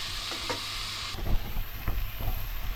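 Onions fry in coconut oil in a pan at a rugged fishing camp, a steady hissing sizzle with a few scraping stirs, close and alone with no talking.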